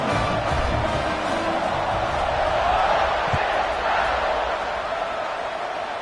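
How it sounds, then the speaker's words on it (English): A college football stadium crowd at a Clemson game keeps up a steady, dense roar of massed voices throughout, with a broad wash of sound and no clear breaks. "this crowd is buzzing after that last score"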